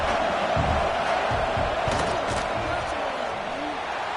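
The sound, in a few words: stadium crowd noise during a field goal attempt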